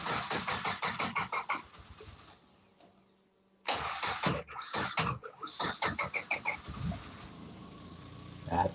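A car engine cranks with rapid rhythmic chugging, stops briefly, then cranks again and catches, settling into a steady idle. The sound is close and moderately loud.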